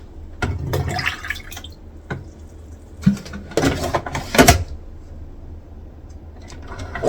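A Keurig coffee maker running a vinegar-and-water descaling cycle: intermittent gurgles, drips and sputtering bursts of liquid with quiet gaps between, close and moderately loud.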